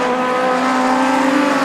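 Scottish Legends race cars roar through a chicane, one engine holding a loud, steady high-pitched note close by for a brief pass.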